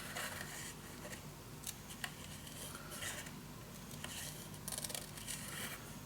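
Scissors snip along a pencil mark on paper for a paper-bag mini album, quiet repeated cuts and rustles close by with no talk.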